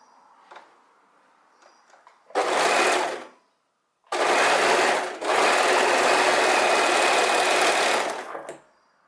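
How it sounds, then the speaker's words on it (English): Sewing machine stitching the end of a scarf top closed, running in two bursts of rapid even whirring, a short one and then a longer run with a brief stutter, in an otherwise quiet room. "what we do now is we're just gonna sew this part closed."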